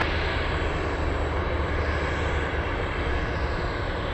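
A roughly 50-year-old Lockheed Hercules takes off at Anchorage airport, its engines a loud, constant, broad roar that holds steady throughout with no other sounds.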